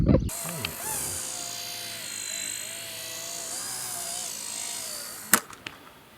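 High, whining buzz of a small RC helicopter's motor and rotor, sustained and wavering in pitch as it flies, fairly faint, with a sharp knock near the end.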